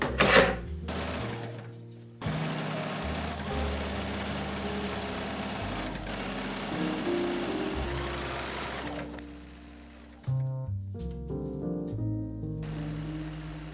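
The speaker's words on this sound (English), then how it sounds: "I'm not sewing together the shoulder seams, just the side seams." A sewing machine stitches the side seams of striped fall clothes in long continuous runs, its steady motor hum pausing briefly around two and ten seconds before starting again, with no talking.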